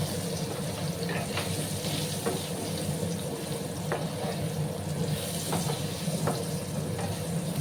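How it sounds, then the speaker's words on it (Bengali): Potatoes fry in mustard oil with turmeric, giving a close, steady sizzle broken by occasional light clicks of stirring. "প্রথমে আমি আলুগুলোকে 2-3 মিনিটের মতো একটু ভাজা ভাজা করে নেব"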